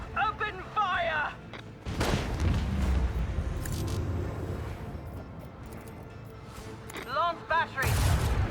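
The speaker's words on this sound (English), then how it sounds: "Macro cannon, open fire!" Macro cannon firing in the video game Warhammer 40K Rogue Trader, a heavy rumbling barrage of booms lasting several seconds, with voices speaking before and after.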